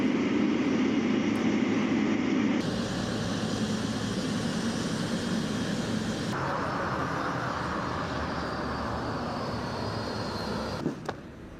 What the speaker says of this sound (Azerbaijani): Prezident İlham Əliyevin təyyarəsi qarşılanma zolağına yaxınlaşır.